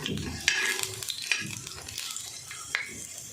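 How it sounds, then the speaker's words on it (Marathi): Oil sizzling steadily in a pan as potatoes fry, with occasional sharp scrapes and clinks of a utensil. "आपलं बटाटा मस्त असं तळलेलं आहे लालसर झालेलं आहे"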